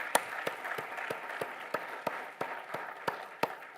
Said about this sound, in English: So I hope you can join me in a great big round of applause.